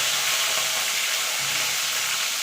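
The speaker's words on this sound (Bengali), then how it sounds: "এবার ফুলকপিগুলো আমি ভেজে নেব।" Cauliflower florets frying in hot oil in a pan for an egg, potato and cauliflower curry, giving a steady, close sizzling hiss that holds evenly throughout with no talk.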